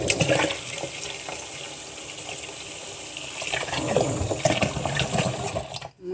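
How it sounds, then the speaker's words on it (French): Water sloshes and churns continuously in a Thermomix TM6 bowl running its cleaning function, a steady rushing gush throughout with a short dip at the end. "On va venir nettoyer notre bol comme d'habitude avec la fonction nettoyage avant de préparer la préparation du flan."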